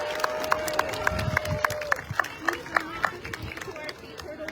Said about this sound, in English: one last cheer for the crews and all of our